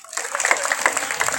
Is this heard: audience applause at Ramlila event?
yes